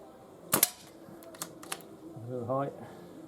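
A Webley Nemesis air pistol fired outdoors at a target: two sharp, close cracks in quick succession, then a few lighter mechanical clicks, with a brief voice toward the end.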